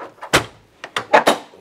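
Canopy tailgate door on a Toyota 79 Series being worked shut, a handful of close, sharp thuds and latch clunks spaced irregularly, loud and clear with no talk.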